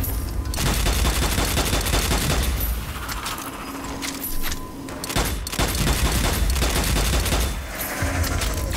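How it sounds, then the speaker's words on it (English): Heavy gunfire from the video game Strange Brigade, with dense, rapid volleys of shots and booms filling the clip almost without pause and sounding loud and close. "what wonderful shooting."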